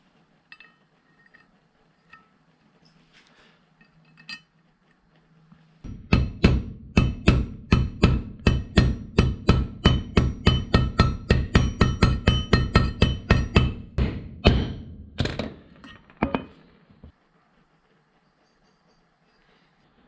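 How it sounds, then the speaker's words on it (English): A copper hammer taps a brass bush into an old steering box, about two dozen quick, evenly spaced metallic strikes in a close, ringing burst, then a few slower taps before quiet. "our copper hammer, or you can use a dead blow hammer"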